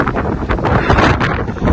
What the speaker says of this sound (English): You can't hear me because it's so windy.